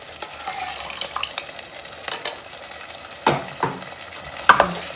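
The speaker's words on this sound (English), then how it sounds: "Stir." A spoon stirring beef Panang curry with coconut milk in a pot, soft scraping strokes and light knocks over a gentle simmer, with no talking.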